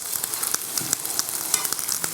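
Food roasts in butter in a hot pan, giving a steady bright sizzle with scattered pops and crackles throughout, close and continuous with no talk.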